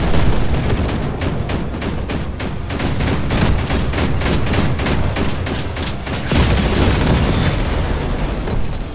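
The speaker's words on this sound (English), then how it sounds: "Being engaged by a guy with auto cannons." Rapid, heavy autocannon fire in the video game Crossout pounds continuously, loud and close, with dense bursts of booming shots and explosions blending together.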